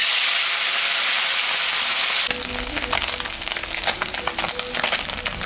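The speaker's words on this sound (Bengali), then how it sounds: "তেলটা গরম হয়ে গেছে, মাছটা এখন আমি ভাজবো।" Salted, turmeric-rubbed korti fish drops into hot mustard oil, and after a brief hiss a loud, dense crackling sizzle takes over and continues steadily.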